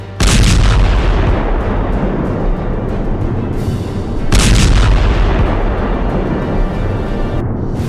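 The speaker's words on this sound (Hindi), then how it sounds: "इजराइल की सेना ने भी मोर्चा संभाला और जवाबी कार्रवाई करते हुए लेबनान की तरफ ताबड़तोड़ मिसाइलें दाग दी।" Israeli army missiles and artillery fired toward Lebanon: two heavy, loud booming blasts a few seconds apart, each followed by a long rumbling roar that slowly fades.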